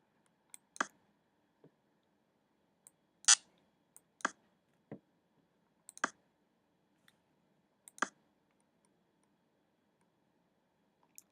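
Chess pieces being moved and exchanged on a board, a series of faint isolated wooden clicks and taps spaced irregularly a second or two apart in a quiet room.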